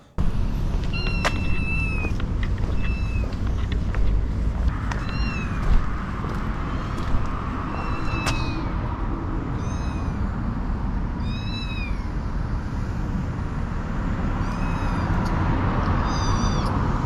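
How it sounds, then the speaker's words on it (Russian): A phone plays a recording of kittens meowing outdoors among houses, a series of thin, high repeated mews spread over a constant low background rumble. "Я включил на телефоне запись мяуканья котят."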